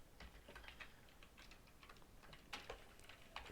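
Quiet keystrokes on a computer keyboard as a command is typed, a run of soft irregular clicks with a few louder taps near the end, no voice.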